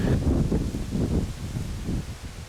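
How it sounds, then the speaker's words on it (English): Wind gusts buffet the microphone beside a Tesla Model Y on the road with a low, rumbling roar that swells and fades unevenly. "Today is kind of windy and we will have headwind"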